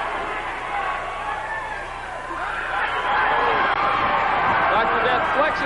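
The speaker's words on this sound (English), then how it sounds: "Listen to this crowd." Wrestling arena crowd at a 1986 Mid South match, a loud continuous roar of cheering and chatter that swells louder in the second half, with a voice talking over it.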